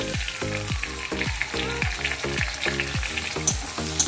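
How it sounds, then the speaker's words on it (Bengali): Chopped tomato fries with onions in a pan, a steady close sizzle with a rhythmic low thumping of stirring throughout. "এবার আমি পেঁয়াজের মধ্যে একটা টমেটো কুচি করে দিয়ে দিলাম।"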